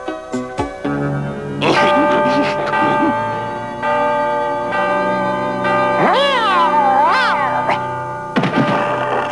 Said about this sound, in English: that's the late bell